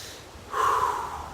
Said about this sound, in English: So make the out breath count all the way out.